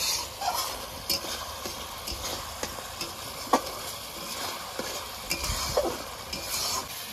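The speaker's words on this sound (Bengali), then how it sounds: "এবার মশলাটাকে ভালো করে কষিয়ে নেব" Spiced masala for a rohu fish poppy-seed curry is stir-fried with a splash of water in a pan, giving a soft sizzle with sparse spatula scrapes and taps, fairly quiet and close, with no talking.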